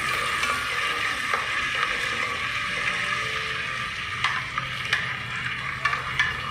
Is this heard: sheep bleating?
no